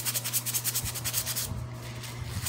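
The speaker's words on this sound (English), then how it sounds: "Now you do want to sand in the same direction as your paint, because if you don't, you'll get scuffs and scratches in it" Sandpaper rubbed by hand over a small painted mini rolling pin, close rhythmic rasping strokes, about a dozen back-and-forth passes that quicken and then fade into lighter scuffing, with no voice.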